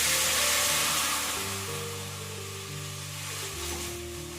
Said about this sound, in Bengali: এদিকে দুধটা ফুটুক